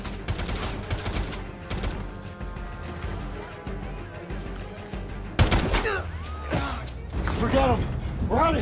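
Gunfire in a TV police shootout as LAPD SWAT officers trade shots with armed suspects, sharp bursts and crashes rising over steady background action, with the heaviest cracks arriving in the second half as voices shout beneath.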